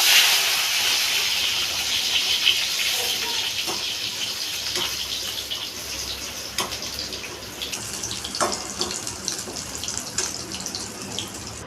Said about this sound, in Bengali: এবার আমি বেগুনগুলো ভেজে নিই।